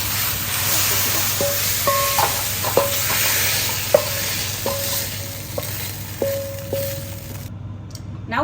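Beef stir-frying in a hot wok, a loud continuous sizzle with a spatula clanking and scraping against the metal at irregular intervals, close up and without speech, ending abruptly.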